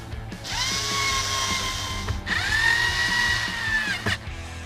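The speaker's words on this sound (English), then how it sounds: "Last thing we need to do is put our screws back in the top." Cordless power drill driving screws back into the top of a 5th Gen RAM truck interior dash, two sustained whirring runs with rising motor pitch, each ending abruptly, loud and close with no talking.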